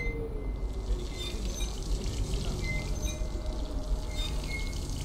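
Water pouring in the stealth game Dishonored: The Knife of Dunwall, a steady close splashing stream running alone through the whole stretch over a low ambient hum.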